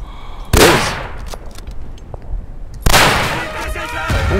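Two loud, close rifle shots in the World War I shooter Verdun, sharp cracks roughly two seconds apart, each trailing into a short echoing decay over quiet battlefield ambience.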